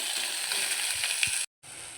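Grated raw mango frying in hot oil with mustard seeds and curry leaves, a steady broadband sizzle that holds loud and even, cuts out briefly near the end, then resumes.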